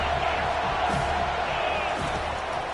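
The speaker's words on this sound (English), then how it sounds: "Decibels rising as the crowd gets behind this defense on 3rd down." Football stadium crowd roaring steadily as fans rally behind the defense on third down, a dense, continuous wash of cheering throughout with no clear individual voices.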